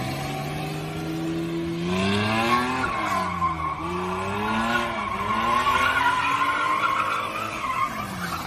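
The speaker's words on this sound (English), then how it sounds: "Fully sick donuts." A car spins donuts with its tyres skidding and squealing in long wavering wails, the engine revving up and down throughout, loud and close.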